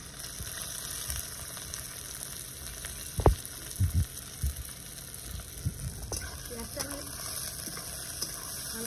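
Chopped onion frying in hot oil with two whole bay leaves for a potato chicken curry, a steady broadband sizzle with a few clattering stirs and scrapes in the pan partway through.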